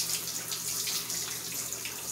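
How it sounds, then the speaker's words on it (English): Tap water runs steadily into a sink as pumpkin pieces are washed for a Jamaican-style broad bean stew, a continuous close hiss with no talking. "Wash the pumpkin."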